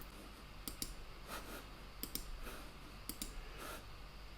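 Faint computer mouse clicks sound in a quiet room, a handful of light taps spread across a few seconds over a low background hiss.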